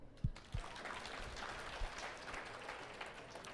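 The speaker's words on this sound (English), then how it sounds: "Clap if you ever fell down a YouTube hole." A comedy club audience claps in response to a prompt: a few sharp early claps, then a thin, soft spatter of applause that sounds distant and faint and continues to the end.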